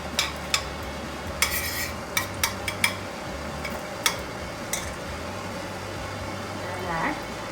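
Ghee melting in a hot kadhai while a utensil stirs and scrapes the pan, with a series of sharp metallic clicks and taps over a low steady background hum, close by.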